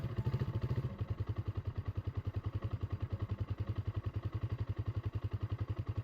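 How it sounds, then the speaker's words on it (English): A carbureted, non-fuel-injected Hanway Scrambler 250 motorcycle engine runs steadily at idle with a fast, even low-pitched thump and mechanical clatter, heard close and alone without talk. "you have to use fuel pump to start the cool engine"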